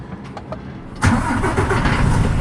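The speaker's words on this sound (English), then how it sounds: "Come to life, truck." A truck engine cranks and catches after a second of quiet cab noise, then settles into a loud, steady diesel idle close by.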